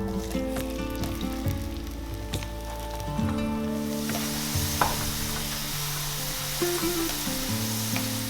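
Onions fry in a pan for vegetable dum biryani until golden brown, giving a steady close-up sizzle that brightens into a louder, hissier crackle partway through, with no one speaking.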